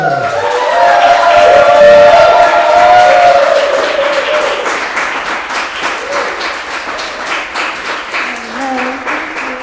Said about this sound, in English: Everyone, with as much energy in your bodies, please clap all the way up to the stage and Coburn.